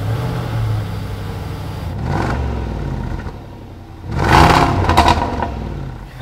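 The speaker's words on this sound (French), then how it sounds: "Le son à l'échappement est encore un peu plus, plus rock, hein, donc on va démarrer la voiture." A Jaguar F-Pace SVR or Range Rover Sport SVR engine cranks and fires into a rough, rumbling idle, with a louder exhaust blip near the end.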